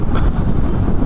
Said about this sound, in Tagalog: Malakas ang hangin dito